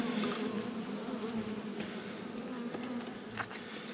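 A honeybee colony hums in a dense, continuous buzz during queen rearing, with close individual bees flaring briefly louder as they pass near.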